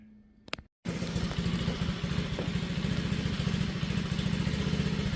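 A 2004 Pantera 50cc minibike's small engine starts and runs at a steady, even idle up close, its quick regular firing chatter filling the clip after a short quiet lead-in.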